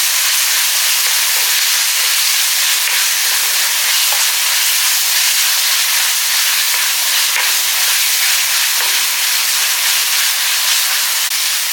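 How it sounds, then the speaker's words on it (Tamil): Tomatoes sautéing in a pan for a Tamil recipe, giving a continuous loud hissing sizzle close by with occasional faint stirring taps, no voices. "தக்காளி கொஞ்சம் வதங்கிருச்சு."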